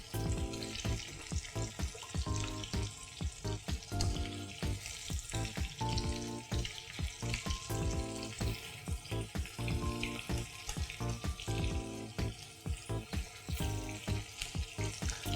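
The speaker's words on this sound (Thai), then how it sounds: "ผมก็จะทอดต่ออีกประมาณ 3-4 นาทีนะครับให้เขาสุกโดยทั่วเท่าๆกันนะครับผม" Cheese-stuffed chicken fingers deep-frying in oil, a continuous bubbling sizzle broken by frequent close clatters and knocks, moderately quiet overall.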